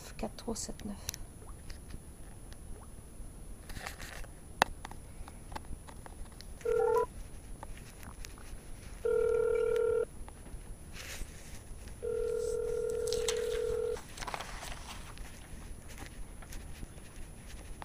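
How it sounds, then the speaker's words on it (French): A telephone dials a Montreal number to call back, with three distinct tone bursts of rising length, the last about two seconds long, among faint clicks and handling noise in a quiet room. "je vais rappeler au 514-949-4379"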